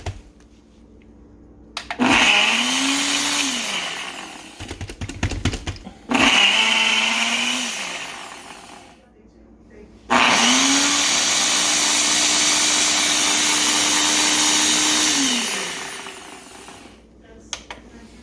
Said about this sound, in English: It started, but then now it's still having trouble.